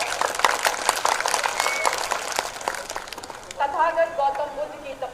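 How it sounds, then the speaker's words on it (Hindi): Loud applause welcoming a speaker at a political party convention in Kaushambi, Uttar Pradesh, dense clapping for several seconds that thins near the end as a voice begins talking. "जोरदार तालियों के साथ स्वागत"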